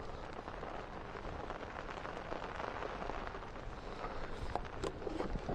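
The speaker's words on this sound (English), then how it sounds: "This rain is battering." Heavy rain pours steadily onto a canal during a fishing match on the Aire and Calder Canal at Pollington, a dense, even hiss of drops that stays fairly faint and unbroken throughout, with no one talking.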